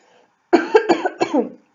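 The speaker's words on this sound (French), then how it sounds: "Excusez-moi, je tousse." Three or four rough, close coughs come in quick succession after a moment of silence.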